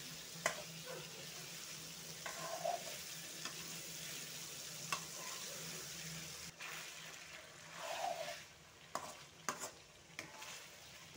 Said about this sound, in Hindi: अभी मैं 5 मिनट्स में इसे फ्राई करेंगे।